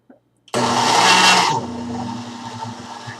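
A cheap $40 blender whirs loudly at full power chopping no-bake cookie ingredients, starting abruptly after a brief click, roaring for a second, then settling into a lower, steady churning grind.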